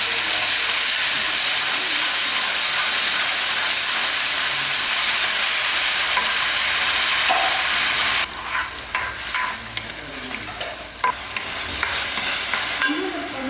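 Ground tomato paste hitting hot oil with onion and garlic for a kuzhambu, a loud, dense sizzle and hiss that gives way to scraping stirring strokes and crackling in the pan.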